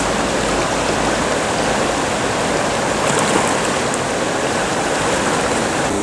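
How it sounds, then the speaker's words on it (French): A mountain river on the GR10 trail rushes steadily and loudly close by as hikers wade across it mid-stream, a dense continuous roar of flowing water with no talking. "On est au milieu de la rivière."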